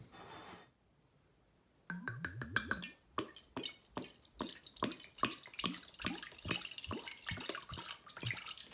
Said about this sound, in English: I'm just gonna go ahead and pour that off into a container